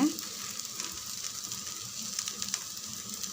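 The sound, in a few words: rava dosa frying in oil on a pan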